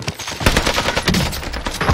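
Rapid machine-gun fire in the Warzone video game, a steady stream of close, loud shots filling the whole moment.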